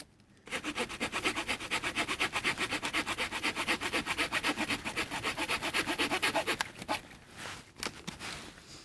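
The small pocket saw of a Victorinox Huntsman Swiss Army knife cuts through a thin wooden branch in fast, regular back-and-forth rasping strokes, loud and close, ending with a few slower, irregular pulls.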